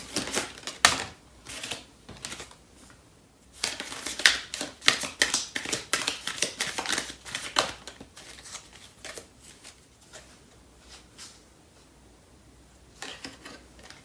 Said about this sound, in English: I'm going to pull out a card from Starseed Oracle deck